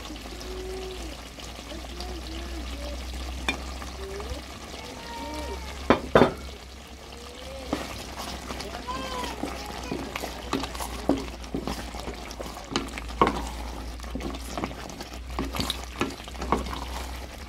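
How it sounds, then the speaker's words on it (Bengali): Panch phoron spices dropped and stirred into a plum pickle in a pan, with soft scraping and stirring strokes, a few sharper clinks, a low steady hum beneath, and a voice talking at points. "পাঁচফোড়নগুলি এখন দিয়ে দিব, দিয়ে আচারের সাথে"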